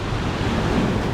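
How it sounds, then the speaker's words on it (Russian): Stormy sea at Yalta, waves breaking and surging in a continuous loud roar mixed with wind buffeting the microphone, no voices. "Вот, друзья, идут волны наши."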